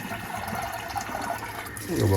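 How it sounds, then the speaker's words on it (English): Water poured into a pot of rinsed jasmine rice, a steady broadband splashing and trickling with a rising note near the end as the pot fills, close and fairly loud. "So now I'm going to add the water."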